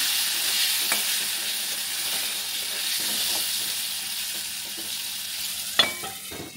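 Potatoes sizzle steadily in mustard oil, a loud constant frying hiss with occasional stirring scrapes and a sharp utensil clatter near the end, no voices.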